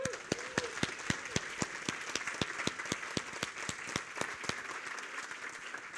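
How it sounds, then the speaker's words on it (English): A conference audience applauds a speaker with faint, fairly sparse claps that come in a steady, evenly spaced rhythm over a quiet room. "Should we give him a big hand of applause?"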